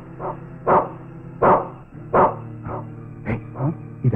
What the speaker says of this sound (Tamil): ராக்கி ஏன் அவனை பார்த்து குழச்சிக்கிட்டு இருக்கு?